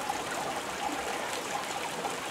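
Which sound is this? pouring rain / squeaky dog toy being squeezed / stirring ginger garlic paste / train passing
pouring rain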